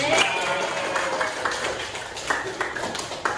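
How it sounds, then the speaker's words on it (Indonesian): A class of vocational school students claps after a group presentation, with a few distinct sharp claps and a light murmur of voices in the room. "ayo semua tepuk tangan"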